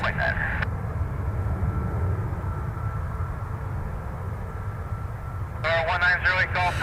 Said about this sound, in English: And the 757 is taxiing, Flight 3812 heading to New Orleans